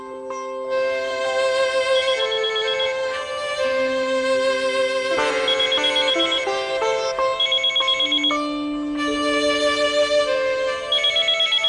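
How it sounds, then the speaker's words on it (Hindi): A mobile phone ringtone plays a repeating electronic melody of bright tonal notes, clear and steady for the whole stretch with no talking. "तुलसी का फोन है।"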